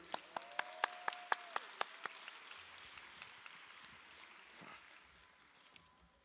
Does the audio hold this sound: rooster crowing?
no